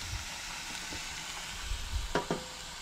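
Chopped vegetables frying in hot oil with a steady soft sizzle, a few light knocks of a spoon or pan near the end, close and with no voices.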